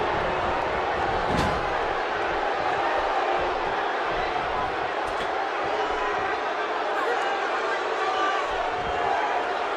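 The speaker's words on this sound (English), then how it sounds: "Another electric crowd on hand here for Smackdown" A wrestling arena crowd at a Smackdown show in the WWE 2K17 video game roars in a steady, dense wash of cheering and noise, loud and continuous, with a few sharp impacts.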